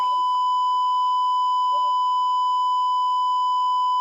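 A censor bleep sound effect, one continuous pure electronic tone held loud and unbroken for about four seconds, standing alone.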